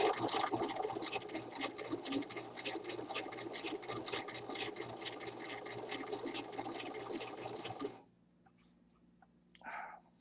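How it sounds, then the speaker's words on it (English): A domestic sewing machine runs a blind-stitch hem on a blouse, a steady rapid mechanical chatter for about eight seconds before stopping, leaving quiet room tone with a faint brief sound near the end. "I'm working on this right now. Machine blind stitch."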